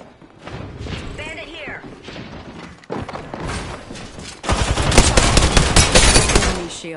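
Gunfire in the battle royale game Apex Legends: rapid bursts and crackling shots mixed with game voice lines and clunky mechanical sounds, growing into a loud dense volley near the end.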